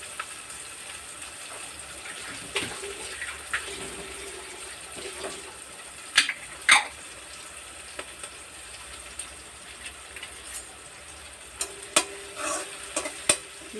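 Chopped green chillies frying and being stirred in a pan, a soft background sizzle with scattered spoon scrapes and clinks, a few louder knocks now and then, no talking.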